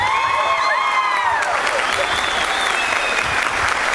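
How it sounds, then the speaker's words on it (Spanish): Audience applause fills a concert hall at a symphonic band's anniversary concert in La Unión, Antioquia, steady and dense throughout. Fading band tones from the end of a piece ring out under it at the start. "otro aplauso para Sofía"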